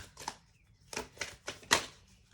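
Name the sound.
shuffling stiff tarot cards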